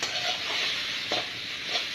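Cauliflower fries in a pan with a steady hiss and occasional soft stirring scrapes, brief and close.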